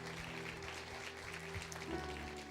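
A church congregation claps together in a steady, diffuse patter, fairly faint and distant, with a sustained musical tone lingering underneath.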